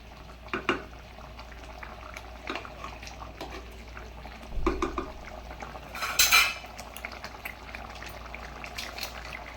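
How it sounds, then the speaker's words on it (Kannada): Palak paneer gravy with a little milk cream simmers in a pan, a soft low bubbling with light clinks of utensils against metal and one brief louder scrape, close and without talking. "1-2 ನಿಮಿಷ ಹಂಗೆ ಕುದಿಸ್ಕೊಂಡು"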